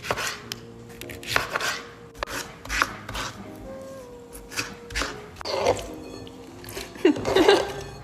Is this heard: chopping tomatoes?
yes